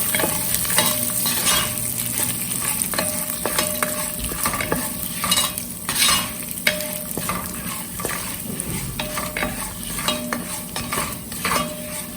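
Turmeric powder sautés in hot oil for tamarind rice, a dense, loud sizzle under steady rhythmic scraping and clinking of a spoon stirring against the pan throughout.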